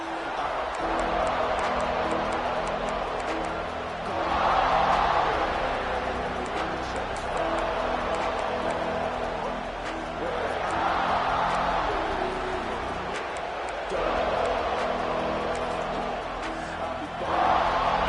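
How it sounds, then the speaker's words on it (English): Stadium crowd in a college football video game, Texas A&M versus Florida: a steady, loud roar of cheering fans fills the whole stretch and swells in waves every few seconds. "This crowd ready to make its presence known."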